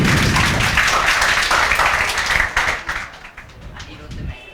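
Students in a classroom break into loud group clapping that thins out toward the end, giving way to scattered taps and murmuring voices nearby.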